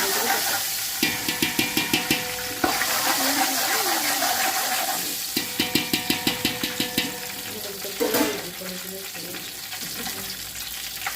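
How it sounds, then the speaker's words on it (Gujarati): Puffed rice (mamra) crackles as it is tempered in hot oil in a home kitchen. A steady sizzle runs beneath bursts of quick, rhythmic metallic clinks from stirring. "તો મમરા વઘારી નાખું"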